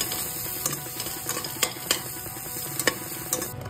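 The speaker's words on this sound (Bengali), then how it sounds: "পরিমাণ মতো নুন দিয়ে একটু ভালো করে ভাজতে হবে" Ground chilli, turmeric and cumin-coriander spice paste fries with salt in a pan for Punjabi sarson ka saag, a soft continuous sizzle broken by repeated sharp scrapes and clinks of a spatula stirring.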